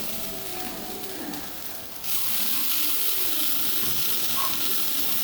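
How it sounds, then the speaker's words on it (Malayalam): Grated coconut roasting in a pan gives a soft, steady hiss that swells suddenly partway through and then holds at a louder, even level. "ഇത് നമുക്കൊരു പാനിലേക്ക് ഇട്ട് കൊടുക്കാം."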